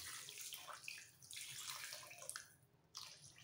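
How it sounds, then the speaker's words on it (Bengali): Hot water poured into mashed pav bhaji vegetables makes a close, steady splashing stream that wavers and briefly pauses near the end. "এইভাবে জলটা একটু বেশি করে দিয়ে আবার ফুটতে দেবো।"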